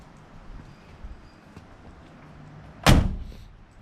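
A single solid car door slam on a 1964 Belvedere barn find lands sharply near the end, loud and close, after quiet background shuffling.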